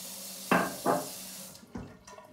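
Hot water from a tap runs into a shaving scuttle in short bursts, three or four brief close splashes and gushes with quiet pauses between, no talking.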